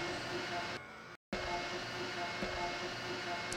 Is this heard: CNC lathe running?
yes